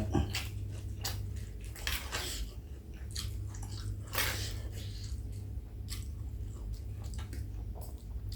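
Someone eats miang, a leaf wrap, with spicy duck larb and crisp vegetables: close, soft, repeated chewing and biting crunches over a low steady hum, with no talking.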